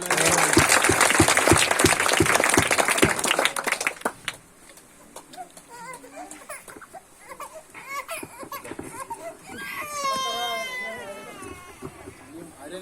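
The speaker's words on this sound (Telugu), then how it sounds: "అందరు చప్పట్లు కొడదాం" A crowd at a church prayer gathering claps loudly and steadily for about four seconds, then the applause stops and scattered voices and faint background sounds follow.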